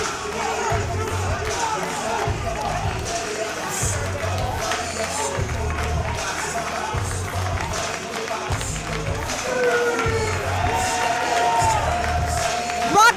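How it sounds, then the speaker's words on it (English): A raucous crowd at a GSW independent wrestling show cheers and roars in a sustained ovation for a wrestler, with loud rhythmic chanting pulses and scattered clapping throughout. "Raucous ovation for Jacob Fatu"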